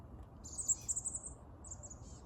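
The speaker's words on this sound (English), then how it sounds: "Lots and lots of chickadees in my yard this morning." Chickadees call in a yard with a short series of faint high chirps and whistled notes over a low background rumble, soft and somewhat distant.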